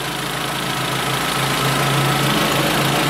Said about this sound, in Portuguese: Mas o motor é bem tranquilo